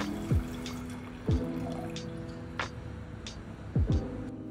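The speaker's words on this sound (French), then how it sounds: "pourquoi pas se servir un petit verre de blanc?" White wine poured into a glass, heard as a few short liquid drips and glugs spaced apart over a faint background, fairly quiet and without talk.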